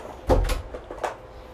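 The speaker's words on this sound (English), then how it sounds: "Can you close my door all the way?" A bedroom door swings shut nearby with a couple of quick knocking thumps, followed by a softer latch click a moment later, heard alone without speech.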